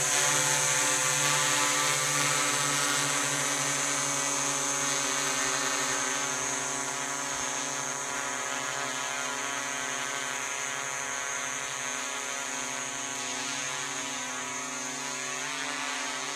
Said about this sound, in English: I've just basically throttled it up and it's just going straight up